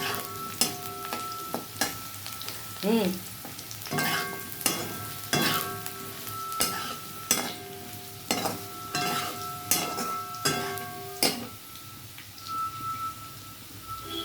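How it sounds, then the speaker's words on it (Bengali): Potatoes fry in hot oil in a home kitchen, giving a steady close sizzle broken by repeated scraping and clattering stirs of the pan at a fairly regular pace. "দেখো লাল লাল করে আমার আলুটা ভাজা হয়ে যাচ্ছে"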